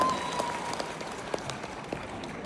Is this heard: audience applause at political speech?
yes